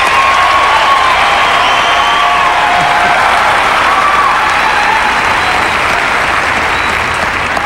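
A tennis crowd applauding a player after a match, dense sustained clapping with scattered whistles and cheers, loud and continuous throughout.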